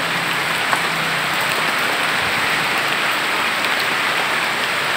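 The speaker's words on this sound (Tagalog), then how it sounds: "Nabuhos na naman po ang ulan." Heavy rain pours steadily outdoors among banana and coconut trees, a dense, loud, unbroken hiss of drops hitting surfaces with no voices.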